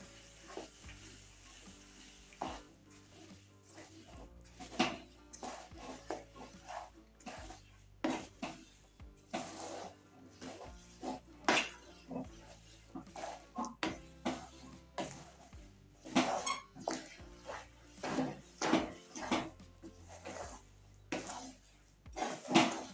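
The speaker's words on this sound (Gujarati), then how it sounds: "આપણે આ રીતના ગોળ અને તલ ને સરસ રીતના મિક્સ કરી લેવાનું છે" A spoon stirs jaggery and sesame seeds together in a pan with the heat switched off, making chikki. It gives irregular, close scrapes and light metallic clinks against the pan, repeating steadily throughout.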